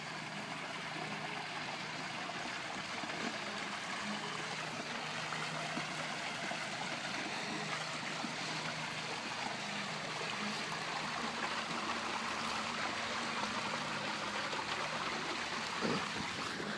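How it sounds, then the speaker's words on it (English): Running stream water flows in a steady, faint, even babble and trickle that continues unbroken for the whole stretch, heard alone with no voices. "I've come down here to see the running water"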